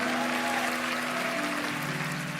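Applause and cheering from a youth church service congregation fill the room, a dense, steady wash of clapping lasting throughout with a sustained tone underneath.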